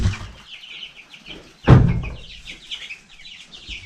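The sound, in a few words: chickens clucking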